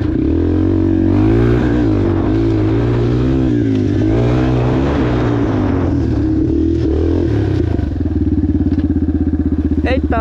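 A new Yamaha TTR 230 trail motorcycle revs loudly and close on a dirt trail, its engine note rising and falling through throttle blips before settling into a steady, buzzing idle-like drone.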